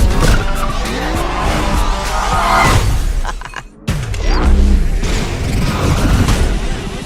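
A car skids hard as the handbrake is yanked in a Fast and Furious 9 trailer scene, loud tire squeal and engine roar with crashing impacts, a brief dropout midway, then more screeching and bangs.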